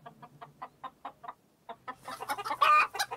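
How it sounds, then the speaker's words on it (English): Hens on a farm in a children's cartoon cluck in a quick, evenly spaced series of short calls, then break into a louder, busier flurry of overlapping squawks, close and with no talking. "Lots of hens."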